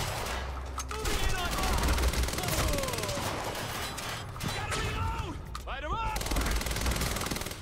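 Quantum Break combat in an industrial area fills the air with dense, continuous automatic gunfire and impacts, loud and close, while a voice talks and exclaims over the shooting.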